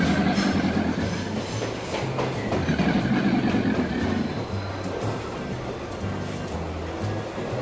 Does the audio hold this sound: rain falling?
no